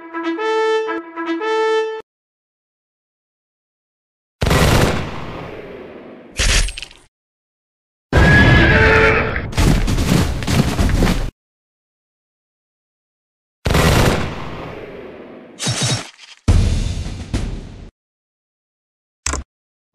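An army firing musket volleys in a Frederick-era war game, the Battle of Lobositz: several loud, sharp cracking bursts separated by silences, after a short musical cue at the start.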